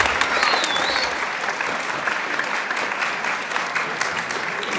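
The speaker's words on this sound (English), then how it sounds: "Big round of applause for you all." Sustained applause from an audience at a middle school winter band concert, steady dense clapping filling the room for several seconds with faint crowd murmur beneath.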